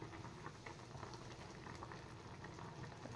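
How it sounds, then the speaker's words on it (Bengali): Potato curry boils in a pot, a faint, steady bubbling and gurgling simmer that continues evenly throughout with no talking. "তরকারি ফুটে গেছে, আলু বোধহয় সেদ্ধ হয়ে গেছে।"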